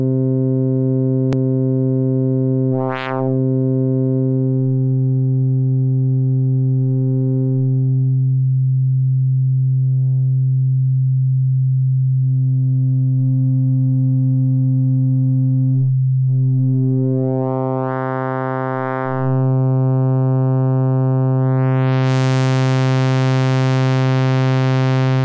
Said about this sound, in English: you can emulate sawtooth waveform using classic phase distortion